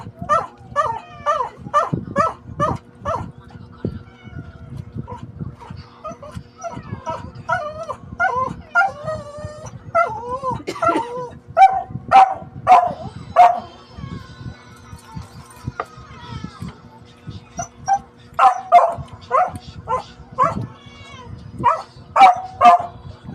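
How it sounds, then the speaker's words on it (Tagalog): Several dogs bark, yip and whimper excitedly while eating, in irregular bursts, close by, with faint background hum between outbursts. "Sarap ingay ng aso po namin. Ganyan po sila. Pag kumakain, ang ingay."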